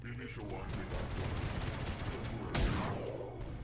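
Rapid booming blasts and explosive bursts of rockets fired at a base in the video game Space Gears, dense and continuous, with a sharp louder impact near the end.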